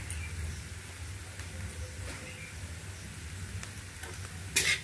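Salted vegetables fry in a pan and are stirred, making a continuous soft sizzle with faint scraping and a sharper clatter near the end.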